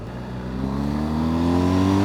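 A 2023 BMW R1250 GSA motorcycle pulling hard in second gear, its engine note rising steadily in pitch as it accelerates, loud and close throughout.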